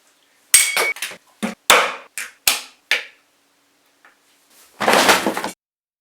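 Walnut shells are cracked open by hand, giving a series of sharp, separate cracks and snaps close up with silent gaps between them, then a longer burst of crunching and rustling near the end.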